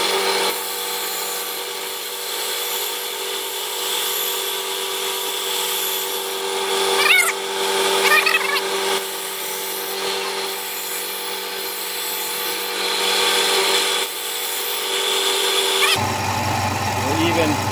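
A bench grinder sharpens a kitchen knife blade after bolster removal at a culinary school, giving a steady, fairly loud whirring grind that holds for most of the span before the tone shifts abruptly near the end.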